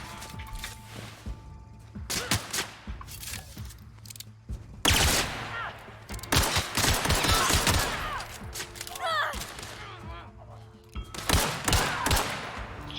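Gunfire from a gun in a Fallout video game, rapid bursts and volleys of shots with thuds and crashes filling the stretch, while players talk over the shooting.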